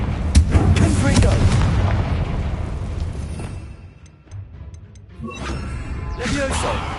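Fiery Confringo spell blasts in the Hogwarts Legacy video game burst as loud, rumbling booms and crackles, fading into a quieter gap before another wave of impacts, with a voice speaking amid the noise.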